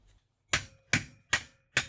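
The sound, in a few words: hammer tapping the shaft of a food processor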